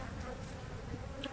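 Honeybees hum faintly in a brief, soft, continuous buzz at an opened beehive during a beekeeping inspection.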